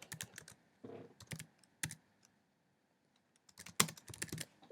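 Comment typed on a computer keyboard in Google Docs: quiet clusters of quick, sharp key clicks in irregular bursts, separated by short pauses, with no talking.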